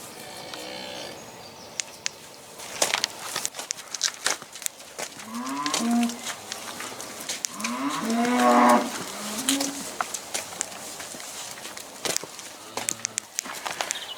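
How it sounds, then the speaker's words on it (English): Cow and calf on a farm lowing: several deep moos, some short and some drawn out, close by, with scattered clicks and footsteps around them. "Cow and calf doing well."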